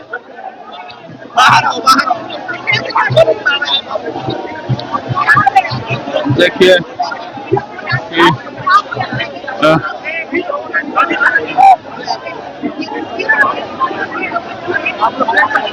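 A large crowd of supporters gathers around a politician after his election win, making a loud, constant hubbub of chatter and shouting close by, with a voice talking over it.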